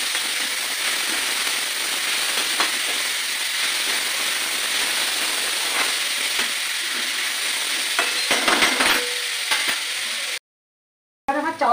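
Chopped vegetables for veg chowmein sizzle steadily in hot oil in a street-food style pan or wok. Frequent scraping and clanking of the stirring tool cut through the loud hiss, which stops abruptly near the end.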